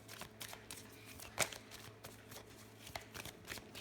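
Lenormand cards are shuffled and cut by hand, producing soft, repeated riffling and flicking sounds with one sharper snap, close and fairly quiet.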